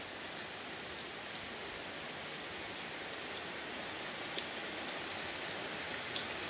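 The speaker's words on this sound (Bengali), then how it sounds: "বাইরে কি বৃষ্টি হচ্ছে মাগো" Rain falls steadily outdoors and water runs over the road, an even hiss of drops that continues unbroken, with a few faint isolated clicks.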